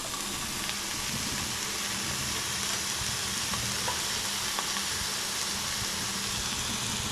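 Beef steak boiling and sizzling in a hot pan, a constant close hiss with faint pops, no voices.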